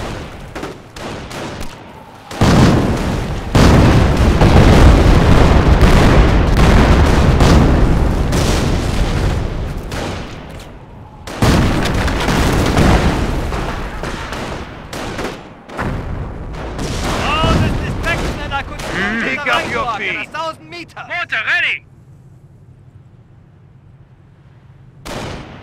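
Artillery fire pounds in the Company of Heroes game as a loud, sustained barrage of booming explosions and rapid gunfire rolls in two long waves. Voices call out through the din before the shelling dies away.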